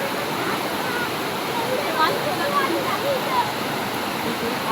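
A waterfall and stream swollen after overnight rain rush in a steady, loud roar of broadband water noise that stays constant throughout, with a faint voice barely audible beneath it.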